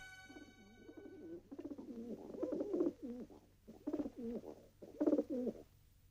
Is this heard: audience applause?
no